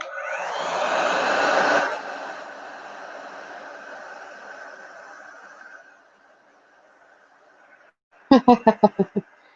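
A hair dryer blows on wet paint, a loud whooshing hiss that eases into a steadier hum and dies away after about seven seconds, followed by a short burst of laughter.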